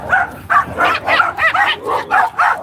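Two small Jack Russell dogs bark and yip in a quick run of about eight sharp, close bursts, loud and excitable on a clifftop walk by the sea.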